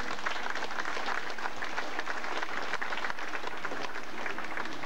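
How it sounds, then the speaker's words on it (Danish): An audience applauds at a Wing Tsun martial arts exhibition in Denmark, dense, steady clapping filling the room at a constant loud level throughout. "Vi klapper."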